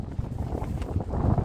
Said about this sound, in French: c'est très venteux